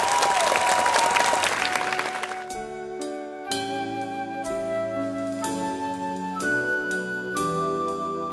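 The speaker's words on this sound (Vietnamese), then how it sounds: "Một tràng pháo tay để chúc mừng cho hai bạn nhỏ của chúng ta" An audience gives a round of applause for two young singers. The loud, dense clapping fades after about two seconds, and gentle instrumental music with sustained tones takes over.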